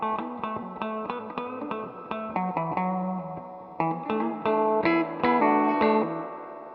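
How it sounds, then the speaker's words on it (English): Distorted electric guitar chords and picked notes through an amp's mechanical spring reverb turned all the way up, each attack trailing into a long, heavy, splashy metallic wash. "that's the sound of the mechanical reverb"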